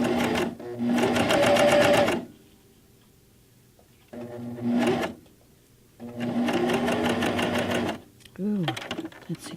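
A sewing machine stitches a jacket sleeve seam from the inside, running in three rapid bursts of close, rattling stitches separated by pauses, with a voice briefly heard near the end.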